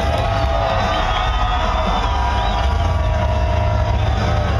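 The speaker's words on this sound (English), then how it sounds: "They're cheering for you." A crowd roars and cheers at a demolition derby arena, a loud, continuous wash of voices over rumbling engines with no break.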